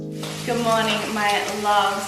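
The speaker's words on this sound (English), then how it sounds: "I apologise if you can hear the bacon sizzling away in the background." Bacon sizzling in a frying pan during breakfast cooking, a steady crackling hiss in the background while someone speaks a greeting over it.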